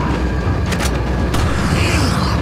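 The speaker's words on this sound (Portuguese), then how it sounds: "eu atirei na dinamite, agora ela explodiu" A dynamite blast in Resident Evil 4 rumbles as a dense, loud boom that fills the whole clip, with a couple of sharp cracks breaking through the roar.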